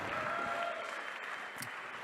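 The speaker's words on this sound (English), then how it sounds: "Please give a round of applause for our chess referee tonight." Applause from the audience at a chessboxing fundraiser event in Norwich, a soft, fairly distant wash of clapping that stays steady, then thins slightly toward the end.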